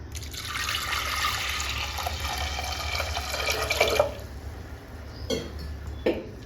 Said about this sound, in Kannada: ಈಗ ಬೇಳೆ ತೊಳ್ಕೊಂಡಿದ್ದೀನಿ. ಒಂದು ಸ್ವಲ್ಪ ನೀರು ಹಾಕ್ತಾಯಿದ್ದೀನಿ.